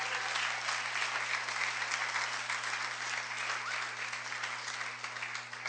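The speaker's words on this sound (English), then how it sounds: "I'd also like one more round of applause for our amazing and wonderful 9 speakers" A TEDx audience claps steadily for its nine speakers, a dense, even applause from a large crowd that holds at full strength for the whole stretch with a constant low hum beneath it.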